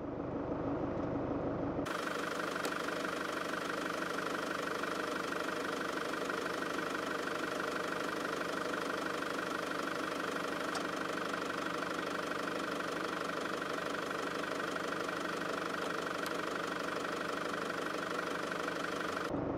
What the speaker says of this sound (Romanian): Mașina coboară în acest moment.